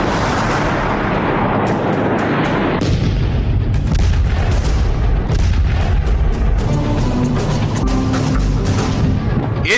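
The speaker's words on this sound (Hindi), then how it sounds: "इसे कहते हैं कारपेट बॉम्बिंग, यानी एक बार में टनों बम गिराकर एक बड़े दायरे को पूरी तरह तबाह कर देना" Heavy, continuous rumbling booms from a US B-2 bomber's carpet bombing, with tons of bombs exploding across a wide area. The blasts roll and overlap into a loud, dense roar for the whole stretch, with no pauses between them.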